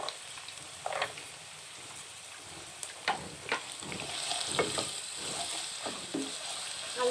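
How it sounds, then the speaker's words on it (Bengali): Carrots frying in a pan with potatoes, a steady sizzle running throughout, broken by intermittent scraping and stirring clatters, close and moderately loud with no talk. "আর গাজর একসাথে ভেজে নেব"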